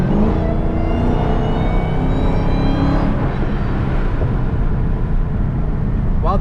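A Dodge Challenger/Charger Hellcat's supercharged engine running in custom mode, with a high, rising supercharger whine layered over a deep, loud drone, pitch climbing and falling as it revs.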